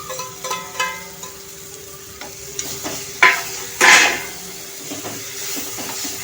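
Brinjal and tomato sautéed in a pan for baingan bharta, a soft sizzle under intermittent scraping strokes of a spatula, with two louder sharp hissing bursts near the middle, close and clear.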